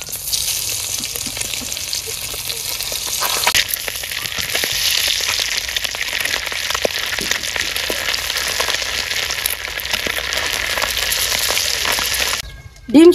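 Eggs sizzle and spatter steadily in hot oil in a village kitchen pan after being flipped, a dense, continuous frying crackle that rises slightly partway through and cuts off near the end.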